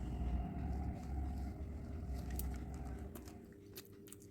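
Someone bites into fried fish coated in idli chili powder, giving close, faint, crunchy chewing in uneven bursts over a low background rumble.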